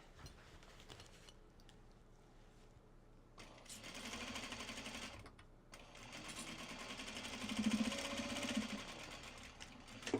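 A sewing machine stitches a seam on a Japanese fabric bag, running in steady whirring stretches with short pauses between them and growing louder toward the end.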